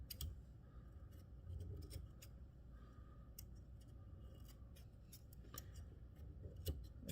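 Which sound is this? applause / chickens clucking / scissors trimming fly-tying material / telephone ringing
scissors trimming fly-tying material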